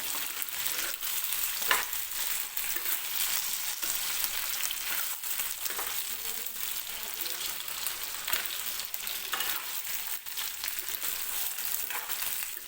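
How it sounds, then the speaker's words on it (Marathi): Parboiled potatoes fry in oil over medium heat for a restaurant-style aloo kurma, giving a steady, close, continuous sizzle and crackle with occasional stirring scrapes throughout. "मीडियम गॅसवरतीच मी हा बटाटा जो आहे तो तेलामध्ये फ्राय करून घेते"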